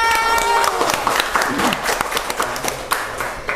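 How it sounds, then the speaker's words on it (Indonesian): A podcast audience claps after a closing quote, a scattered burst of applause with distinct individual claps, loud at first and thinning out, while a voice carries on talking underneath. "Beri tepuk tangan."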